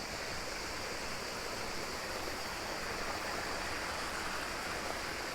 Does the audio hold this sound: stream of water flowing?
yes